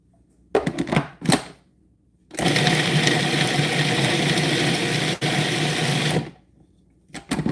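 A food processor pulses a paste with olive oil: two short whirring bursts, then one long steady run of about four seconds, loud and close, and a final short burst, with no talking.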